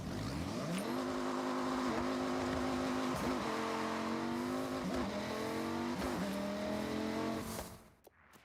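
A V10 race car in a tuning and PvP racing video game revs hard and steadily through rising gear pulls with brief shift dips, loud and continuous before it cuts off abruptly.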